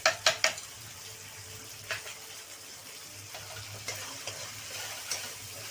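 Poppy seed paste with pointed gourd is stirred in a pan: a few sharp metallic clinks open, then a soft sizzle with occasional scrapes, fairly quiet.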